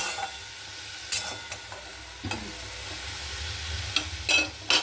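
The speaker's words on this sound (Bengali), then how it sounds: "উচ্ছে ভাজছি দেখো, নুন হলুদ কালো জিরে ফোড়ন দিয়েছি" Bitter gourd frying in a pan with salt, turmeric and nigella seeds, a soft steady sizzle broken by a few short scraping stirs.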